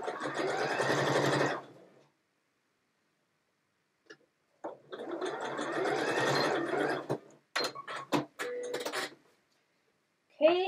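A sewing machine running straight stitching in two sustained whirring bursts, separated by silence and followed by a few short clicks and knocks, close and clear.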